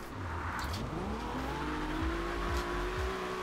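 A Nissan 300ZX drifting in Forza Horizon 2, its engine holding a steady, slowly rising rev while the tyres squeal through a sustained slide, loud and close without any voice.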